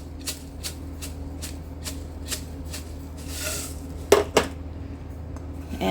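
Panko crumbs are mixed in a bowl, giving a quick run of light, even scrapes and taps in a steady rhythm, close and fairly quiet, followed by a couple of sharper knocks.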